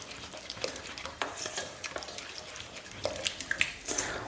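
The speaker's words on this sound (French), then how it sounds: "je verse le tout et je mélange sans cesse" Couscous semolina stirred constantly into boiling water: a soft, continuous scraping and swishing with faint bubbling and sizzling, close and quiet, with small clinks toward the end.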